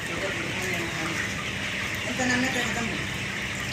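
23-day-old chickens on a poultry farm cluck and murmur softly in the background, a steady low chatter with faint voices nearby.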